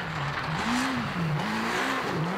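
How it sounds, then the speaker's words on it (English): Rally car engine screaming through a hairpin on a power stage of Rally Victoria, Australian Rally Championship 2014: a loud, sustained high-revving note that rises and dips as the car is pulled round the tight bend, with no talk. "The engine is actually screaming."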